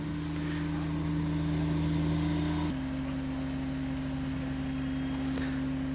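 VITRAC articulated tracked implement carrier with a 30 hp diesel engine, steady droning engine note close by that shifts pitch midway, continuous with no talk.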